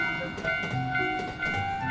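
An animated train passes a railroad crossing in a children's cartoon, a tonal, musical rolling sound with steady harmonic tones and rhythmic pulses, close and moderately loud.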